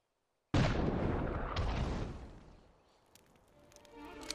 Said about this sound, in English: Man the mortars!